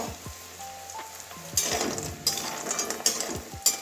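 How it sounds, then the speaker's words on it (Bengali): Lentil dumplings (bori) frying in a pan, a soft steady sizzle broken by bursts of spattering crackle and light clinks of a utensil against the pan. "বড়িটা আগে ভেজে নিচ্ছি একসঙ্গে সবটা বড়ি ভেজে নেব"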